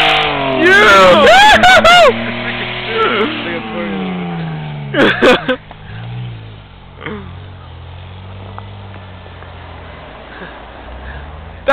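Dodge Stealth twin turbo car drifting, an engine revving and droning outdoors beneath loud excited shouting and cheering from onlookers close by.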